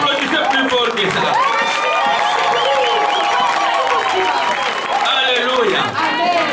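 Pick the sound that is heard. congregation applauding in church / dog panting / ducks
congregation applauding in church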